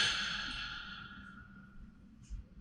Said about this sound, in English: take a big deep breath